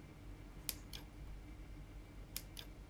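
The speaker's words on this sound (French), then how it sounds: "Commencez par tourner comme ceci votre câble dans les ciseaux, puis venez donner des petits à-coups" Scissors snip at the textile covering of a cable in two pairs of quick, crisp cuts, close and quiet against a faint room hum.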